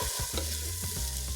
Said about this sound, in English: We add our vegetables. We'll give them a stir.